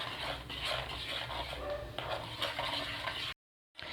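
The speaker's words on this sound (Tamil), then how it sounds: "இந்த எண்ணெயில் நல்லா அந்த பொடியெல்லாம் நல்லா ஃப்ரை பண்ணிக்கோங்க" Pepper, turmeric and salt powder fry in oil over a low flame, giving a steady, close sizzle with light stirring scrapes that runs without a break, then cuts to a brief silence near the end.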